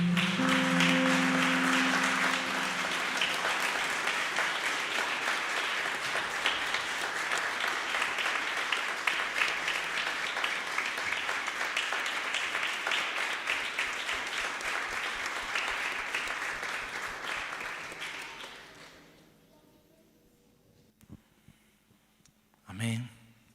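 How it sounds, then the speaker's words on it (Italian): A church congregation at an evangelical worship service applauds in praise, sustained dense clapping for about eighteen seconds before fading, leaving near quiet with a couple of brief sounds at the end. "Possiamo lodare il Signore con un applauso."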